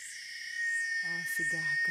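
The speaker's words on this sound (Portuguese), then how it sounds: "Olha a cigarra cantando." Cicada singing on a sunny morning, a steady high buzzing drone that runs through the whole stretch and swells partway in, while a person talks over it in the foreground.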